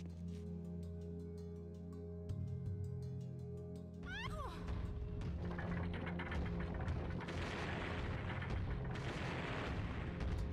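Explosions boom in Star Fox Adventures, a sustained rumbling burst of blasts and crackle taking over after a calmer stretch of game music and tones, fairly loud and dense to the end.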